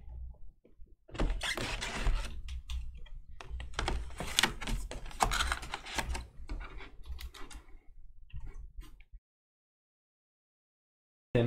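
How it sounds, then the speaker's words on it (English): Someone types on a computer keyboard at a sports card case break: a run of close, rapid key clatter with a few louder strokes lasts about eight seconds, then stops into silence. "And I will type in Campbell."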